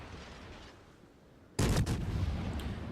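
Naval gunfire in a ship battle video game: after a quiet stretch of low rumble, a sudden loud booming salvo erupts and rolls on, followed by sustained heavy roar and a faint later crack.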